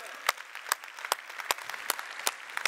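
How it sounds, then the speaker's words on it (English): Scattered, sparse hand claps at a town hall for truckers, sharp individual claps spaced out in a slow, uneven rhythm over a quiet background, moderately close. "Let's have a big round of applause for truckers."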